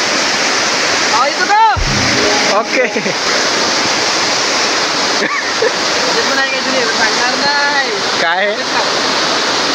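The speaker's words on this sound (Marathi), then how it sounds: "पाण्याचाच आवाज जास्त आहे।" A village stream rushes in a loud, steady roar of water outdoors, while people talk briefly over it.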